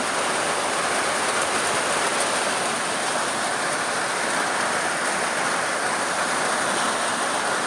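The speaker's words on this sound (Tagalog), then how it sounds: "Ulan na naman sa amin guys." Heavy rain pours steadily on a farm, a dense, unbroken hiss close by that holds at the same loudness from start to finish with no voices over it.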